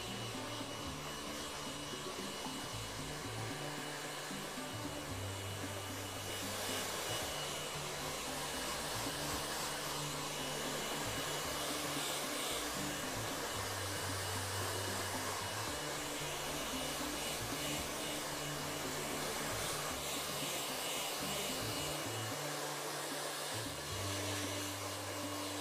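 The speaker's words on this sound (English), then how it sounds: "rough it up with your dryer as well" A hair dryer blows with a steady, loud whooshing hum, its pitch wavering slightly as it moves, continuous for the whole stretch with no talking.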